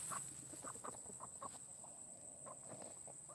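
Several chickens cluck nearby in short, irregular bursts over a steady high electronic whine, fairly faint, with no talking.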